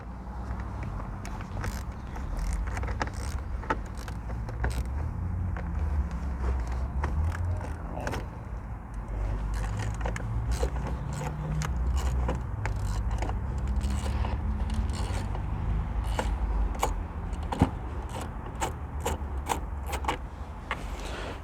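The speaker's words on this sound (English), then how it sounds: "Now we move over to the 10mm wrench, find the first bolt just here." A 10mm wrench works on bolts of a Mitsubishi 3000GT steering column, giving steady ratcheting clicks and metallic creaks up close over a low background rumble, with no talk.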